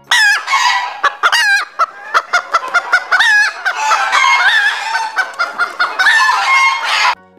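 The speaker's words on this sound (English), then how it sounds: "H for hen." A hen clucks in a rapid series of loud, close calls, and a rooster then crows in bursts. No one speaks, and the bird sounds stand alone.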